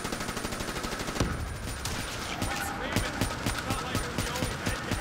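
Rapid video-game gunfire rattles in bursts of repeated shots while players fight zombies, close and loud, with excited voices talking over the shooting.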